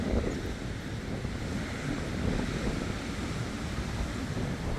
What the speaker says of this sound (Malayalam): അതിന് മാത്രം അത്രയും കാറ്റുണ്ട്